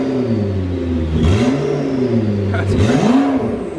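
A modified McLaren supercar engine with a turbo revs hard twice in quick succession, each rise and fall distinct and close, over a steady loud idle, with voices talking over it.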